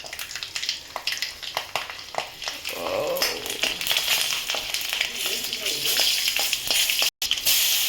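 Mustard seeds pop and garlic sizzles in hot oil for a home-cooked bele soppu palya, a close, continuous frying hiss scattered with sharp crackles and spatters, with occasional stirring sounds.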